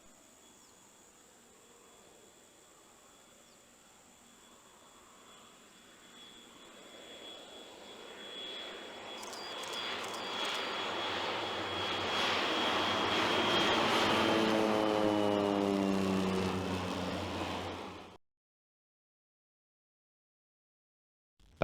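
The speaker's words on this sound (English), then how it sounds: "These planes are specially built and they're very maneuverable." A crop-spraying airplane in the 1999 PC game Let's Go Bananas with Fyffes drones steadily, its buzzing engine swelling louder over several seconds before cutting off abruptly into silence.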